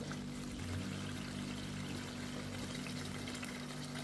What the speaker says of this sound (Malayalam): ഞാൻ ചൂടുവെള്ളമാണ് കേട്ടോ ആഡ് ചെയ്ത് കൊടുക്കുന്നത്